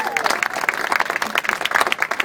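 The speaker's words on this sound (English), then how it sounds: "Give them a round of applause." An outdoor crowd at the Occupy LA protest in Los Angeles applauds a comedy roast with sharp, uneven clapping that rises and falls in quick bursts.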